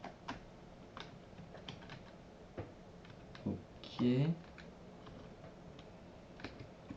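Number keys on a computer keyboard are tapped in scattered, light clicks at close range, with a brief spoken word partway through.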